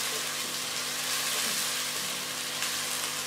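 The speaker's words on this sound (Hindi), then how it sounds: "ये देखिए हमारा प्याज इसमें पक रहा है।" Chopped onions frying in a pan over a medium flame, giving a steady, even sizzle that continues without pause and without any voices.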